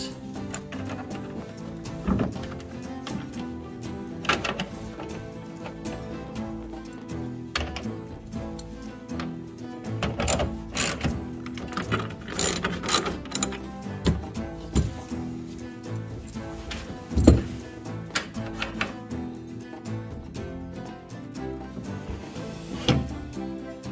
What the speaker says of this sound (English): Now start tightening those bolts.